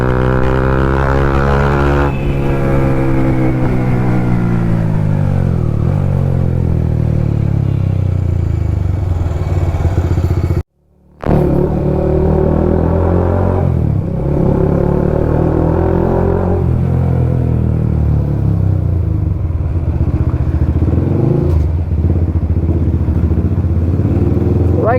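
Bajaj Pulsar NS200 motorcycle fitted with an Akrapovic exhaust, ridden at night: a loud, close engine drone that rises through revs, drops and climbs again, with one brief cutout midway.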